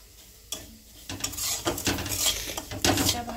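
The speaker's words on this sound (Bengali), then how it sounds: "এটা আমি ভালো করে ঘি দিয়ে ভাজালাম।" Semolina frying in ghee in a pan, with a spoon scraping and clattering against the metal as it is stirred under a soft, steady sizzle, close and moderately loud.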